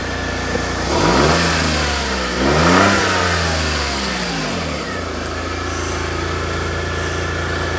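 A Smart car's engine runs steadily, then revs up twice in rising and falling sweeps before settling back to a smooth idle, loud and close with no one talking.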